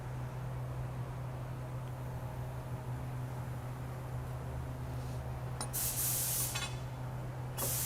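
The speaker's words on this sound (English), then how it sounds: "Apply grease to the shaft for our bearing" Grease sprays in short hissing bursts onto the shaft of a large submersible borehole pump, close and fairly loud over a steady low workshop hum.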